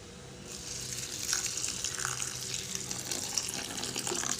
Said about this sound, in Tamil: இதை வந்து கொஞ்சம் நல்லா தண்ணி ஊற்றி கழுவி எடுத்துக்கிடலாம்.